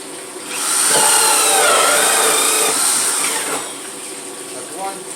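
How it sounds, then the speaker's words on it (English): A power drill bores through a plastic sump lid, whining up close for a few seconds with a faint voice underneath, then spinning down. "So we're going to drill a hole over here."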